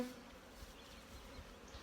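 Honey bees buzz around a hive, a faint, steady, continuous drone with no talk.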